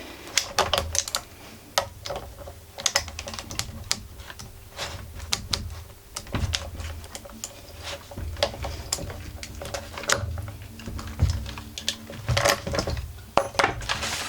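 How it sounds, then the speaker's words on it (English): A 14 mm wrench working the stuck flywheel nut on a Stihl FS51 AVE grass cutter, heard as close, irregular metallic clicks and clinks with no voices. "I'm going to use 14 millimeter. Wrench in here."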